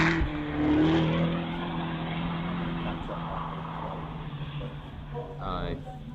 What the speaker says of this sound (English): Renault 5 heading down to this.